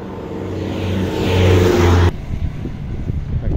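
A car crosses a single-lane stone bridge, its engine swelling as it nears and then cutting off abruptly, leaving quieter rumbling traffic behind.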